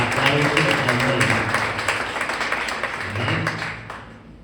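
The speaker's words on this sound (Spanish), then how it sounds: "denle un fuerte aplauso a Él" A church congregation breaks into applause during a sermon service, steady loud clapping from many hands that fades somewhat midway and swells again before tapering off, with no talk over it.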